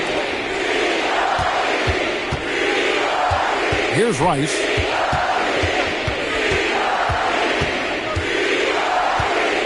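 Arena crowd noise from an NBA 2K basketball video game, a steady roar of cheering that holds under a play-by-play commentator talking throughout, with a brief whistle-like swell midway.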